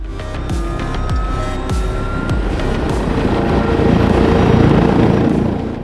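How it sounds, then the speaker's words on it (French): Loud, steady rotor and turbine roar of a French Navy H160 helicopter, close by and continuous, swelling slightly toward the end with no voices. "le CROSS décide de faire intervenir l'hélicoptère H-160 de la Marine nationale"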